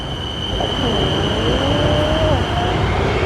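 Train passing in Bangkok: a loud, steady rumble of rolling cars with a thin, sustained metallic whine on top and a brief wavering squeal midway, continuous throughout.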